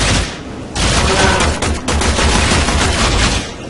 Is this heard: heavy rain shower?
no